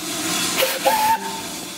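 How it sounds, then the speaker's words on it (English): The chime whistle of the steam locomotive Britannia gives a short, wavering blast amid loud hissing steam, brief and fairly close. "the chime whistle used in the movies is a stock sound effect recorded from Britannia"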